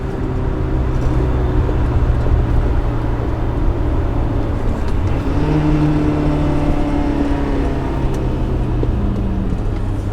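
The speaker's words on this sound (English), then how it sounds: "Just got to keep the revs up." A BMW E30 M3 engine drones steadily at high revs while driving, with the pitch shifting partway through as the car pushes on.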